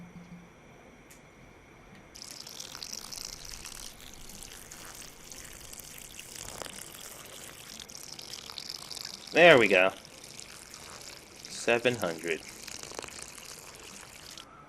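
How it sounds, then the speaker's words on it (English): Chicken broth pours in the video game Cooking Simulator, two short liquid splashing bursts rising over a quiet kitchen background, with a person talking in between. "I'm still getting that pouring sound"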